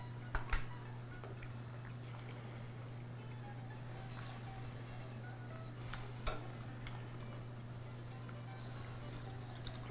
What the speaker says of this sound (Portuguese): a gente vai aqui, ó, adicionar caldo à nossa sopa até completar ali a minha panela